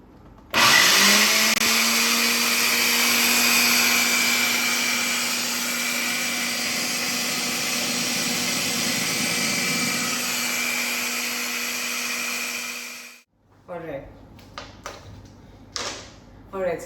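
A blender whirs loudly and steadily for about twelve seconds, mixing zucchini brownie batter, then shuts off, followed by a few knocks and handling noises nearby.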